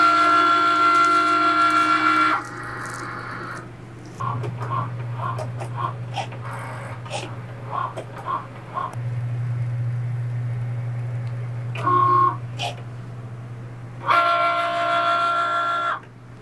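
Cricut Maker fitted with a fine point blade cutting stencil vinyl, giving off a mix of whirring carriage movement, short mechanical clicks and beeps, and buzzing motor runs that stop and start across the stretch.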